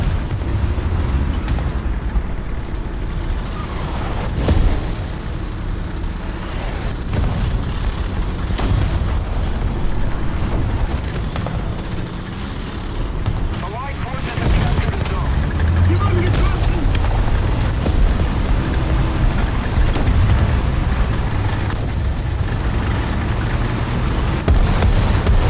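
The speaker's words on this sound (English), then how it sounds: "That artillery shell almost smacked me in the rear." Heavy booms from artillery shells exploding in the tank game War Thunder roll through a dense battlefield din, repeated sharp blasts layered over constant rumble while a player talks throughout.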